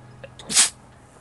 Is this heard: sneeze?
yes